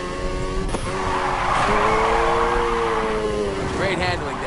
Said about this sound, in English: Now try and hold those drifts.